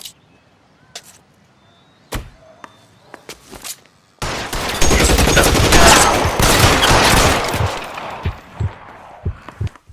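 A shootout in L.A. Noire opens with a few sharp, scattered gunshots, then erupts into a loud, dense burst of rapid fire lasting several seconds before thinning back to isolated shots.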